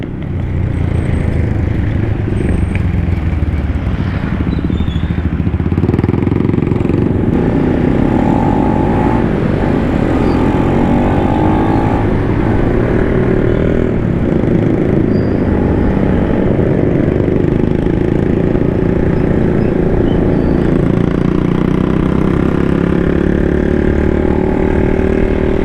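A motorcycle engine drones steadily throughout at cruising pace, a continuous loud mechanical hum with gentle rises and falls in revs, heavy wind and road noise, no voices.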